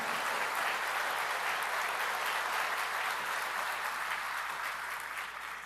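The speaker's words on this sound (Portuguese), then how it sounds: "eu queria uma salva de palmas para o nosso SEBRAE" Steady applause from an audience at a Brazilian government ceremony for the signing of a small-business law, even and continuous throughout, heard from some distance.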